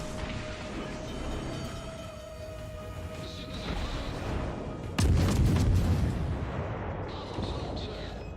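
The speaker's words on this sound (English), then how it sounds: "Time to send out some torpedoes." Torpedoes fire and detonate in a naval warship video game, a heavy booming burst about midway that rolls into low rumbling, set against steady game ambience with faint background speech.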